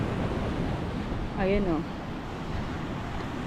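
Ocean waves wash steadily onto the shore under a constant hiss of wind noise, with a short spoken word breaking in midway.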